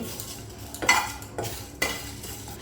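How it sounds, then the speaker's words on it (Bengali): A spatula scrapes and clatters against a pan in a few sharp strokes over a faint sizzle of whole spices, including fennel seeds, dry-toasting for jujube pickle. "সব কিছু আবারও একটু ভালো করে ভেজে নিতে হবে"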